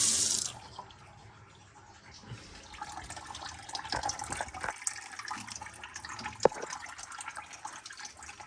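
Hot water runs steadily from a tap during a Vaillant EcoTec boiler repair, a broad continuous hiss, with a few clunks and knocks of handling over the flow.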